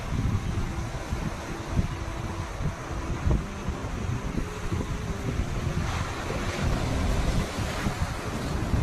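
Heavy ocean surf pounding a beach west of Yogyakarta Airport, a continuous loud roar of breaking waves mixed with strong wind buffeting the microphone, with no voices.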